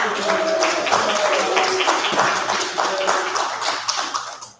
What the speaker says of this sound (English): Let's also give a round of applause for Barbara as the president.